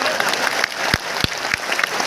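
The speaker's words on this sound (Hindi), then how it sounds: "तालियां बजती रहनी चाहिए।" An audience claps at a centenary ceremony for a madrasa in Patna, Bihar, steady crowd applause with a few sharp thumps and a voice over it.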